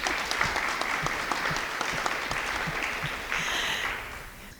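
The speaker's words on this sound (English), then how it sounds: "Can you give them a quick round of applause?" An audience claps in a steady round of applause for the check-in helpers, near and dense for several seconds before thinning out at the end, with no talk over it.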